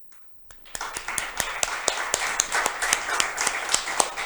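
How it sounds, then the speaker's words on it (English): Audience applause at the end of a talk at an international forum, starting with a few claps and quickly building into steady, moderately loud clapping from a small crowd, with no voices over it. "A round of applause for you."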